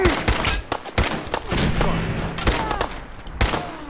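Gunfire in Fallout 4, with sharp close shots fired in quick irregular bursts through a few seconds of game sound, a voice speaking briefly between them.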